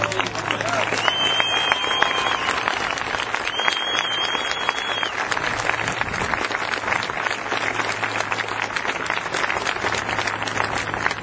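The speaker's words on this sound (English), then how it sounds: "give yourselves a huge round of applause" A large crowd applauds steadily and loudly for several seconds, with scattered cheers and whistles rising over the dense clapping.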